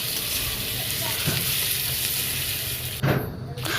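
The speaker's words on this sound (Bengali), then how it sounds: "এখন আমি আলুটা ভালো করে ভেজে নেবো" Boiled potatoes fry in an oiled pan with bay leaf, a steady close sizzle with faint stirring scrapes, briefly rising louder near the end.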